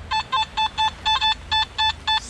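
A Simplex+ metal detector in a creek gives a crisp, repeating beep, about nine short bright tones in an even rhythm. It sits over a low background hiss and rumble, fairly close and moderately loud.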